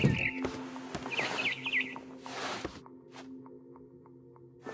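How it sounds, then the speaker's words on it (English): A barn swallow chirps in the game What Remains of Edith Finch, with thin, quick tweets rising over a soft ambient hum, brief and fairly close, joined by a few light footsteps. "Then I heard chirping outside my window. It was a barn swallow going back to her nest."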